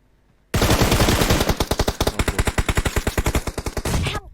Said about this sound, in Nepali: कहाँबाट हाने यसले भिक्टर